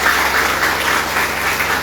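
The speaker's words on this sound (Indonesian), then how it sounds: "Tepuk tangan untuk kita semua." Applause from the audience at an outdoor gathering where a newly elected regent addresses villagers, steady and dense for under two seconds, with a low hum underneath and no voices.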